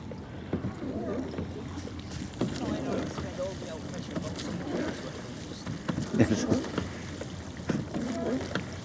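A rowing boat moves on the open water off a sandy beach at Broughty Ferry, its sounds faint beneath wind buffeting the microphone, with someone talking nearby.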